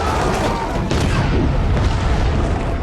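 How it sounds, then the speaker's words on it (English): A huge movie explosion sends a mushroom cloud over a wooden house, heard as a loud sustained rumbling boom with crackling debris under a narrating voice. "A huge mushroom cloud swallowed the wooden house."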